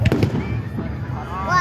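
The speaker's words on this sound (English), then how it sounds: "Fireworks like this" July 4th fireworks pop in a quick cluster of sharp bursts at the start, then crackle and hiss away, with voices talking nearby.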